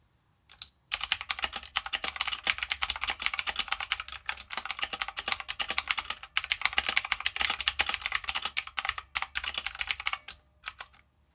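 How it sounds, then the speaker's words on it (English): Fast, steady clacking of a Motospeed CK61 mechanical keyboard with clicky blue switches, sharp tactile clicks in continuous bursts with brief pauses, close and loud, no voices. "This one has clicky blue switches."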